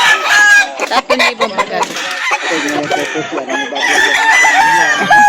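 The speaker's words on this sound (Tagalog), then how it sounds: "Ayan, magandang manok oh." Roosters at a chicken market in Calauan, including a white kelso, crow repeatedly and cluck loudly nearby while people haggle and talk over them.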